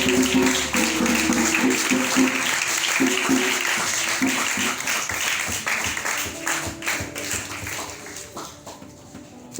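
A church congregation breaks into applause during a worship service, steady clapping and cheering filling the room at close range, with music and raised voices mixed in before it thins out near the end.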